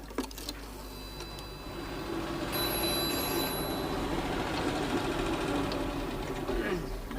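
A telephone rings inside a 1970s British family home, fairly faint and set against a steady background hum that fills the whole stretch.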